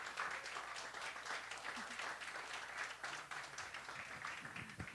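An open mic audience at Club Passim claps for a singer, a dense, sustained round of applause that carries evenly through the whole stretch.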